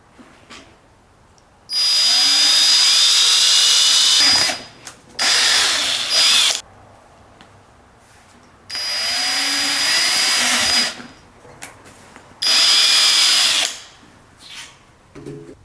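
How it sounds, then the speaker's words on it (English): A power drill whines loudly in four separate bursts of several seconds each, drilling holes for a Tamiya Clodbuster body mount, with quiet pauses and small clicks between them. "And I'll drill the same for the other side."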